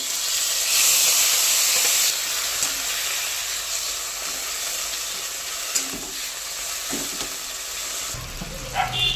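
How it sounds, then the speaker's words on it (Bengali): Green beans tipped into a pan of fried tomato, garlic and green chilli give a loud, steady sizzle and hiss that eases slightly after the first two seconds, with faint stirring clinks near the end. "টমেটো, রসুন, লঙ্কা সব ভাজা হয়ে গেছে। এইবারে দিয়ে দেব সিম।"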